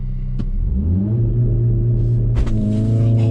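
A Mercedes-AMG CLA 45 S Shooting Brake engine rises in a loud, close rev as it builds for a launch-control start, with a steady droning tone and a brief sharp click near the start.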